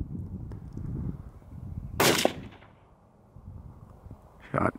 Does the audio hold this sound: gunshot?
yes